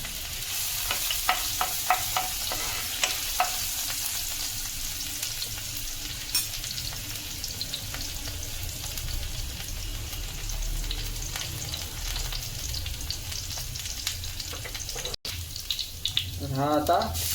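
Garlic frying in hot oil for a Maharashtrian dried bombil sukat, a loud continuous sizzle with stirring scrapes and a brief break near the end.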